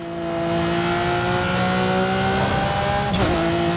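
Naturally aspirated engine of an Italian exotic car in a racing video game, holding a steady sustained drone with stable harmonics, then a brief shift and scrape near the end.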